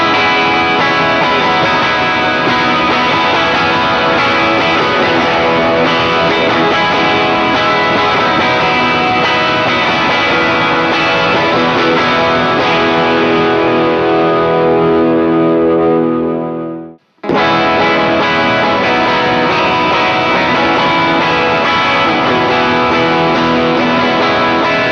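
Overdriven electric guitar played through a Superbolt amp in a live setting, a thick sustained distorted tone with chorus and echo that rings steadily, then cuts to brief silence near the end before resuming loud and alone.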